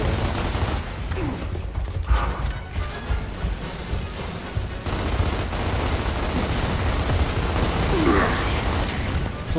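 Continuous gunfire and mechanical clatter from the Gears of War video game on Xbox, loud and sustained throughout with bursts of impacts, under a dense game soundscape and no clear talk.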